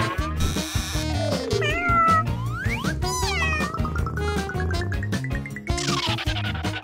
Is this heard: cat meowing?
yes